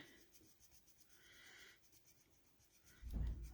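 Quiet, steady scratching and rubbing of a pencil coloring a thistle drawing on paper, with brief strokes, ending in a louder bump near the end.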